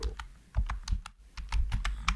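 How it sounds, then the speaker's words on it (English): Quick, irregular clicks of fingers typing on a computer keyboard, close and fairly quiet, a short burst of keystrokes with a brief pause midway and no talking. "I will click here and I will type here tutorial"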